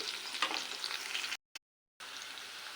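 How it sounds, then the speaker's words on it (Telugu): Vegetables sizzle and crackle in a hot pan with a soft, steady frying hiss that cuts out briefly in the middle and then resumes. "ఇలా ఫ్రై చేసుకోవాలి వీటిని"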